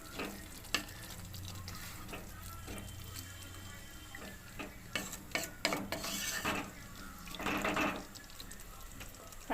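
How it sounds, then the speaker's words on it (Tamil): Spicy goat intestine curry bubbling and sizzling in a pan, with stirring scrapes and clinks of a spoon throughout, fairly close and steady. "இப்போ நல்லா கொதிச்சிட்ருக்குங்க"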